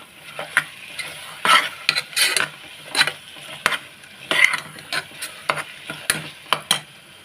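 Bitter gourd curry stirred in a pan over medium-high heat, a spoon scraping and tapping the pan in a steady rhythm of close, repeated strokes over a light sizzle of frying spices, with no talking.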